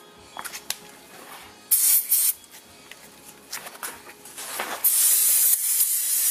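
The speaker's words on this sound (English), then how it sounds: "Now we're going to take our caliper cleaner, or brake cleaner in this case" Brake cleaner sprays onto a brake caliper in short hissing bursts, then a longer sustained blast, close and loud, with quiet rubbing and handling between sprays.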